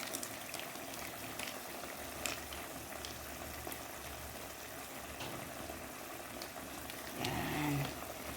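Afritada sauce simmering with chicken in a pot, giving a steady low bubbling and hiss throughout at moderate loudness, with a brief denser swell near the end. No talking.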